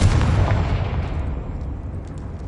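A Confringo blasting spell going off in the Hogwarts Legacy video game: one loud, close explosive boom with a deep rumble that fades away over a couple of seconds.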